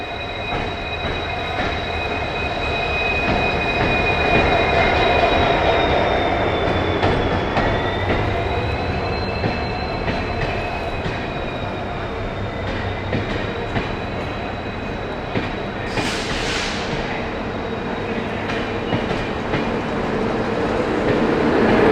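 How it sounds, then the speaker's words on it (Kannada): Gomateshwara Express pulling into Subrahmanya Road railway station behind a WDP 4D diesel locomotive, a steady loud rumble of rolling stock with a long high wheel squeal that slowly bends in pitch, and a brief burst of hiss near the end, no voices. "ಇದು ನಮ್ಮ ಟ್ರೈನ್ ಅರೈವ್ ಆಗ್ತಿದೆ"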